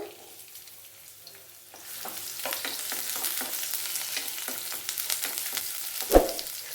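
Sliced onions hit hot oil in a kadai and sizzle steadily, a quiet hiss that swells after a couple of seconds, with scattered pops and a sharp clink near the end.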